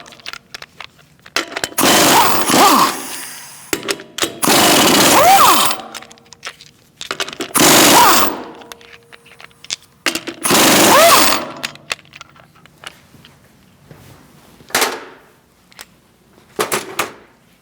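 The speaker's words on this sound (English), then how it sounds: "Now we're going to remove our lug nuts." Impact gun removing lug nuts from a 2016-2019 Chevrolet Cruze wheel, loud close whirring rattling bursts of a second or two each, five or six of them separated by quiet gaps, the final ones shorter.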